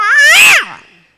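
A voice mimicking fighting cats with one loud, strained, wailing yowl that swells and then trails off quickly, close and brief.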